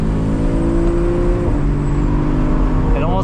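Porsche 981 fitted with a Soul Performance competition exhaust, valves closed and sport mode on, droning steadily from inside the cabin at a mild, near-stock level, with a faint rising whistle near the end.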